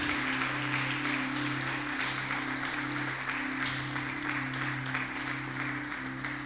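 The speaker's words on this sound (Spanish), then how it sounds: "Dale un aplauso al Señor Jesucristo." Church congregation applauding during a Spanish-language sermon, a steady dense wash of clapping with sustained organ or keyboard tones held underneath throughout.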